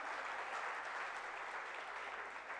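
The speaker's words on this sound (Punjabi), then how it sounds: "ਇੱਕ ਵਾਰ ਜ਼ੋਰਦਾਰ ਤਾੜੀਆਂ ਫਿਰ ਤੋਂ ਰਾਜਵੀਰ ਦੇ ਲਈ।" Steady, dense applause from a studio audience at a Punjabi TV celebration show, sustained and fairly even throughout with no talking over it.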